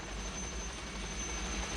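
A helicopter in flight gives a steady, close rotor and engine drone with a thin high whine, heard alone without speech for a brief moment.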